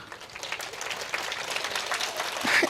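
Audience clapping at a school event at Sloka International School, a moderately loud, crackling patter of many hands that swells slightly toward the end of the short burst.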